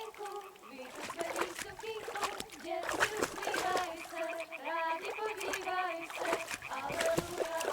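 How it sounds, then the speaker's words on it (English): A stone splashes into water in the medieval game Kingdom Come: Deliverance 2, a short wet plop set amid layered game ambience and background sound, with several splashy bursts through the scene. "Throw a stone in the water near her to lure her away."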